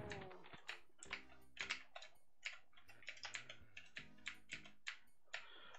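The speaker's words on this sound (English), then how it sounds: "This keyboard is also extremely nice and clicky." Typing on a clicky keyboard with original 1980s Cherry switches, hooked to a 386 running DOS: close, crisp keystrokes in short irregular bursts with small pauses, sharp clicks and a few heavier thocks.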